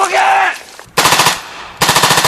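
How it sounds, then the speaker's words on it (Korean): Rapid automatic gunfire rings out during a surprise enemy attack in an army combat training exercise, in two loud, close bursts of fast, evenly spaced shots after a brief stretch of other sound. "희미한 불빛과 총소리뿐"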